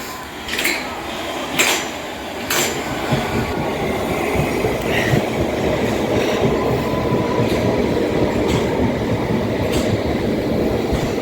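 A London Underground train to Rayners Lane rumbles steadily through a Harrow station, with rhythmic clanks and a few sharp metallic clicks from the wheels over the tracks, close and continuous.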